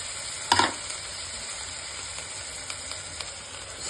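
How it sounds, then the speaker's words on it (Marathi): Potato, cauliflower and peas stirred in a pan with melted tomato, giving one short scraping clatter near the start, then a steady soft sizzle and faint occasional clinks. "आता आपण भाज्या सगळ्या टाकून चांगल्या हलवून घेऊया."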